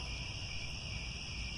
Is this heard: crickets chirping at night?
yes